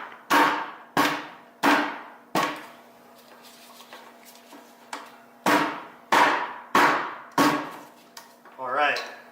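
A G. Gun grease gun being primed and pumped, giving a series of sharp, evenly spaced clanking strokes, about nine in all, close and loud, with a quieter pause partway through.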